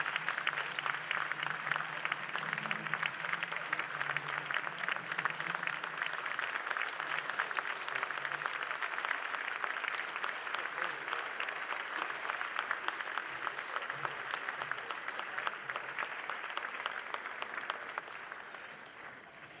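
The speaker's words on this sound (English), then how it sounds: "Let's give Tony one more round of applause." An audience at a chamber of commerce banquet claps steadily for about twenty seconds, a dense, even wash of applause that fades slightly at the end, with faint voices underneath.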